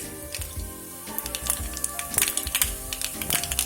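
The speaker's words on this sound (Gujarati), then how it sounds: "રાઈ આ રીતે ફૂટવા લાગે એટલે જીરું એડ કરી દઈએ" Mustard seeds crackle and pop in hot oil in a kadai, with cumin seeds sizzling alongside, producing a dense, irregular spatter of sharp close pops over a continuous frying hiss.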